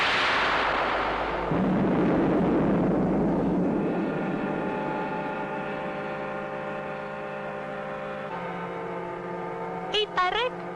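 In a 1962 science-fiction series, a spaceship weapon fires with a rumbling blast that decays into a long sustained electronic drone, ending in a few short rising electronic bleeps.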